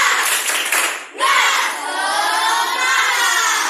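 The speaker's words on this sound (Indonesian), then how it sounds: "Tepuk semangat." Schoolchildren in a classroom perform the tepuk semangat spirit clap, a loud burst of patterned clapping and shouted chanting from many young voices, pausing briefly before a second louder round.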